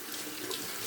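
Water runs steadily from a tap in a short, continuous close-up wash with no voices.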